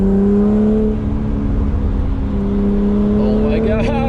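A BMW E36 M3 with loud headers accelerating on a street drive, a steady droning engine note climbing gradually in pitch, loud and close, with a voice speaking over it near the end.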